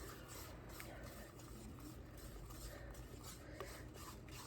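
Whisk stirring ingredients in a bowl for a quick birthday-party recipe, a steady scraping and clinking rhythm that runs without a break and sounds close and moderately loud.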